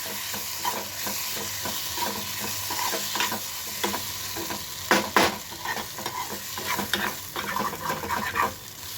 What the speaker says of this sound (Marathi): आणि परतवून घेत आहे भाजी